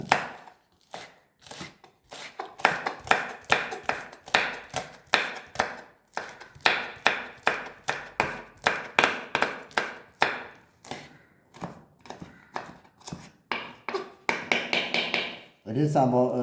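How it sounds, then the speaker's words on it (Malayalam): Green chillies being finely chopped with a knife on a board, a long run of rapid, sharp strikes close by, speeding up near the end before a brief burst of other noise. "ചെറുതാക്കി അരിയുക."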